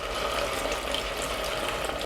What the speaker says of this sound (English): now I'm going to add water